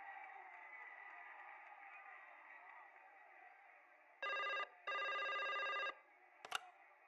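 A telephone rings in the Broken Sword 5 adventure game, two loud electronic ring bursts following a steady hum of background tone, ending with a brief click as the receiver is picked up.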